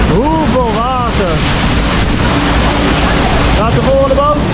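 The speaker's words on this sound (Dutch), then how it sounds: "Kijk, let op die andere boot, hè. Hoeveel water." Water rushing and splashing around a log-flume boat ride at the Vienna Prater amusement park, a loud steady roar with wind buffeting the microphone while people talk and call out over it.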